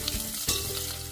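Cumin, crushed garlic, green chili and hing sizzle in hot oil, a short close hiss with a sharp crackle midway, with no voices.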